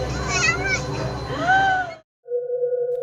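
A domestic cat meows in a few drawn-out, rising and falling cries at close range, followed after a short silence by a steady electronic tone.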